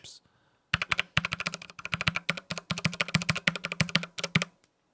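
Close, brisk typing on a mechanical computer keyboard with Cherry MX Brown switches, a dense run of clacking keystrokes lasting about four seconds after a short quiet start.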